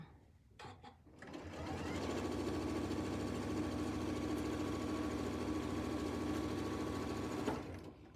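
A sewing machine chain-pieces quilt blocks, starting up after a second of quiet and running in a steady, fast, even whir for about six seconds before stopping.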